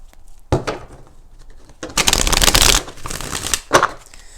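Cards being shuffled close up: short riffles and slaps, then a long loud riffling burst and a final snap of the deck.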